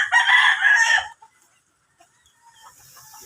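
Pet fighting roosters crow loudly and close at hand for about a second, with clucking mixed in. After that comes near silence, broken only by faint rustling.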